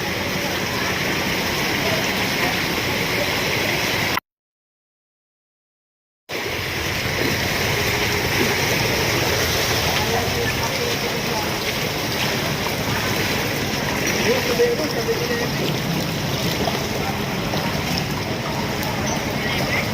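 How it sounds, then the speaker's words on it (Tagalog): A strong river current rushes past in a continuous, broadband roar of flowing water, close and steady throughout, briefly cutting out for a couple of seconds early on. "Malakas ang agos dito dahil pababa doon"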